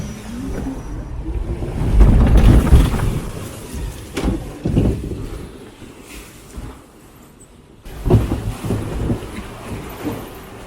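A log flume boat at Plopsaland De Panne rushes down a drop into water, with loud roaring surges of wind and water around two and eight seconds over a steady rumbling ride.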